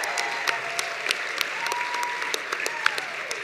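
Gala audience giving a round of applause after a fundraising total is announced, with steady massed clapping and sharp individual claps standing out, plus a faint tone and voices in the background.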